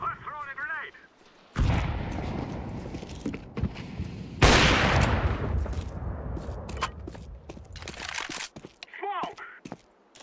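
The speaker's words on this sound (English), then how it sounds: "I'm throwing a grenade" A grenade goes off in Counter-Strike 2, with loud, booming bursts and crackling gunfire in a match, while voices talk briefly at the start and near the end.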